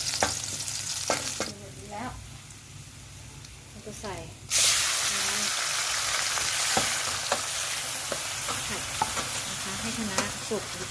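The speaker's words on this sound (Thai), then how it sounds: "ใช้ไฟกลางนะ ใส่น้ำมันลงไป นิดหนึ่ง แล้วใส่กระเทียมเลย" Garlic frying in a little oil over medium heat in a hot pan for Thai crispy fish-sauce pork: a steady sizzle that jumps louder midway as more hits the oil, with spatula scrapes and a voice talking over it early on.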